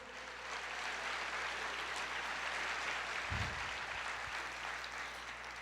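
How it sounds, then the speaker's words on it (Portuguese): A church congregation applauding during a sermon, a continuous wash of clapping at moderate distance with a low hum underneath and a brief thump midway. "Você pode aplaudir o Senhor"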